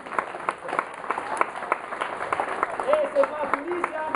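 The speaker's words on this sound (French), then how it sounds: "Applaudissez-les très fort" An audience claps for storytellers at an outdoor village festival in Levens, France, a steady smattering of hand claps with voices and crowd murmur running through it.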